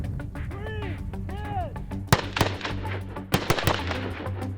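Sharp rifle shots from a sniper precision-shooting exercise, two loud cracks each followed by quick echoes, with a soft background hum and a brief voice earlier.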